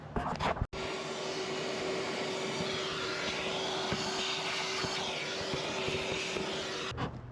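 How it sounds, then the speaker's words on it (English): A vacuum cleaner drones steadily at close range, a loud continuous whine that runs almost the whole time before cutting off, cleaning a pickup truck's engine intake. "For now, I need to vacuum all that."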